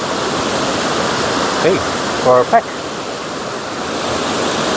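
The rushing roar of Dream Falls, also called Aliw Falls, heard from the top of the waterfall as steady broadband water noise, with a brief spoken word and a couple of short handling knocks over it.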